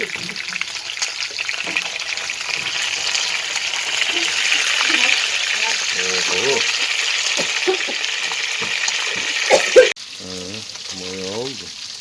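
Semolina-coated fish sizzles steadily in a pan on a tin stove, with clinks and stirring noises, while voices talk intermittently over the frying.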